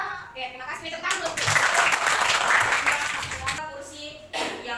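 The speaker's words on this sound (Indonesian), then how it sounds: "Tepuk tangan dulu." Classroom applause from students during a teaching session, a dense burst of clapping rising for a few seconds before fading, with voices mixed in and talk resuming at the end.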